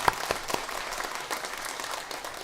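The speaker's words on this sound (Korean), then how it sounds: "다시 한번 감사와 영광의 박수를 부탁합니다" Church congregation applauding together after a hymn, a steady wash of many hands clapping at moderate volume for the full length, with a few sharper nearby claps standing out at the start.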